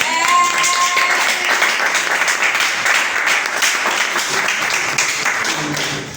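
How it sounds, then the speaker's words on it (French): A church congregation applauds during a sermon on spiritual gifts, a dense, loud wash of many clapping hands that holds steady for several seconds and fades slightly at the end. "Est-ce que tu peux acclamer pour cette parole?"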